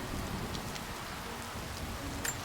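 Rain falls steadily in Rise of the Tomb Raider's valley, a dense, even patter with scattered sharper drips and one brighter splash near the end.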